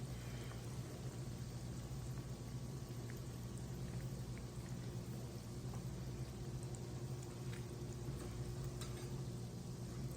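Biscuit doughnuts frying in hot oil give a steady, faint, even sizzle and hiss that runs unbroken throughout, with no voices over it.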